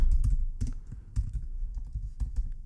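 Typing on a computer keyboard into a spreadsheet, a close series of soft clicking keystrokes in small clusters with brief pauses, heard alone.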